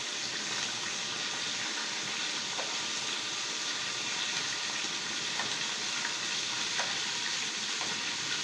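A pan of frying food sizzles in a home kitchen, a continuous crackling hiss with occasional small pops and clinks, close and steady with no voices over it.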